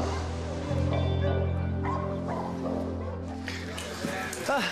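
Several dogs bark and yip at an animal shelter, with sharp barks and whines rising over a busy background of voices and room noise.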